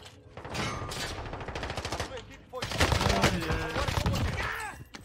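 Rapid automatic gunfire and bursts of shots from a Call of Duty Warzone match, loud and dense, continuing through most of the stretch with a short lull in the middle.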